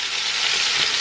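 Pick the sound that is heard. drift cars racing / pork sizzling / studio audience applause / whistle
pork sizzling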